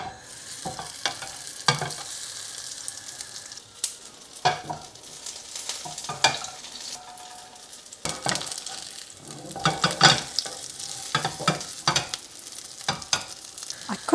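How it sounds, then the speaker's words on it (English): A vegan burger fries in olive oil in a pan with a steady close sizzle, broken by repeated scraping and stirring knocks of a utensil against the pan. "So in goes some oil. Just going to cook in some olive oil."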